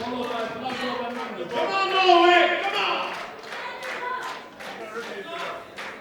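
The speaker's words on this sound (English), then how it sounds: "the crowd is loud for everyone" A big, loud crowd applauds and cheers at the World Sub-Junior and Junior Powerlifting Championships, men's 120 kg class, during a 335 kg lift, a steady wash of clapping and voices that swells midway and then eases.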